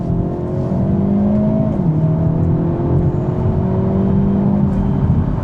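A Hyundai Elantra N accelerating hard with the NGS button engaged, a loud continuous engine drone rising in pitch with a brief dip as it shifts, heard from inside the car with no talking.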